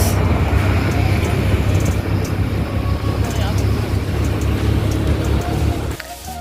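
A car drives along a ghat road on the Pune–Nashik route in the early morning, its engine and road noise forming a steady close rumble, with voices over it until it briefly drops near the end.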